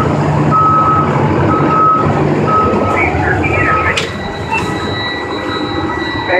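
A school bus backing up sounds a steady series of repeated electronic reversing beeps over a loud diesel engine idle, with an extra tone joining partway through.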